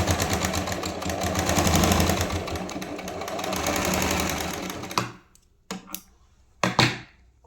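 A sewing machine runs a long, loose basting stitch along the seam of a red choli-cut blouse, humming steadily for about five seconds before stopping, then giving a few short, sharp bursts.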